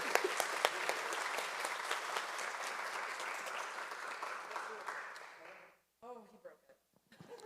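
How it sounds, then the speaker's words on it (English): An audience at a university student leader awards ceremony claps for an honoree, a steady round of applause that fades out after about six seconds, followed by a brief spoken voice. "please give the wonderful Michelle a round of applause"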